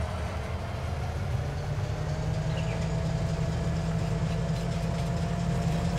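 Train rolling along in Farming Simulator 19, a continuous low rumbling drone with a steady engine hum, even and unbroken, no voices.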